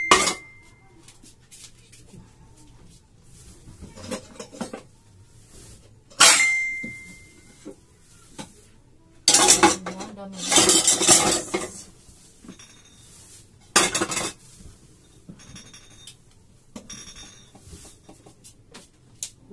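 Dishes, pots and cutlery are washed by hand at home, with irregular clinks, clatters and scraping of metal and crockery. The sounds come in loud, scattered bursts between quieter stretches of running water and handling.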